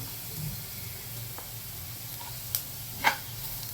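Turmeric, red chilli and garam masala with peas and potatoes are stirred in hot oil, giving a soft, steady sizzle with low stirring scrapes and a couple of brief sharper spatters near the end.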